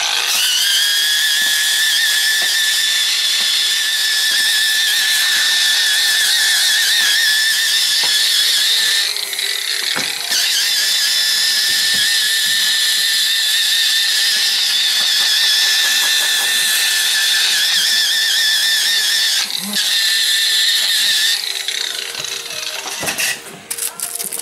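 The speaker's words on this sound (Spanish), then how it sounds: "luego lijamos para quitar imperfecciones" Continuous high-pitched whine of a power sander working motorcycle seat padding for reupholstering, loud and steady, with a few brief dips and scrapes.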